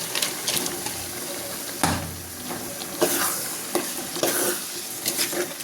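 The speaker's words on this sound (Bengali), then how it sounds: "ডালগুলোকে কষিয়ে নেব আগে।" Lentils sauté with spices in a pan, a steady close sizzle punctuated by scraping stirs and a few clanks of the spoon against the pan, no talking.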